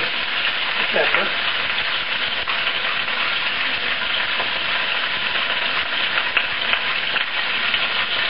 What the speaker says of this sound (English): we'll let them sear on both sides